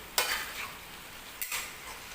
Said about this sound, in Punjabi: ਆਪਾਂ ਨੂੰ ਵਿੱਚ ਵੀ ਹਿਲਾਉਣਾ ਜ਼ਰੂਰੀ ਆ